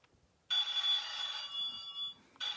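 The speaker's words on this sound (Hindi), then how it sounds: "फोन आ गया दोबारा।" Telephone rings on a game-show set where the bank calls in an offer, sounding as bright electronic ringing bursts that start abruptly, pause briefly, then resume, fairly close and without any talk.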